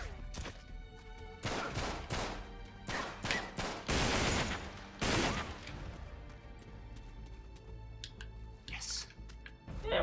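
Sawn-off shotgun blasts in the video game Uncharted 3, several loud bursts in irregular succession, some clustered close together, with a voice speaking faintly between shots.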